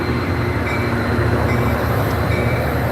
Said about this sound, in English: Let me wait for this train real quick.